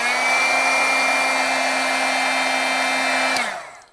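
Heat embossing tool blowing hot air in a steady, loud, close whine with a constant tonal hum, running alone for several seconds before switching off and winding down.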